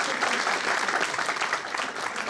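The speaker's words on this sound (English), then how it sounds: "But how about another round of applause for Nicolle Rochelle?" A jazz party audience in Whitley Bay gives sustained, dense applause, steady and fairly loud throughout.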